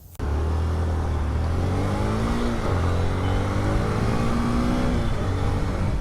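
A new 2024 motorcycle's engine catches abruptly and keeps running loud and close, its tone rising and falling with light revs throughout.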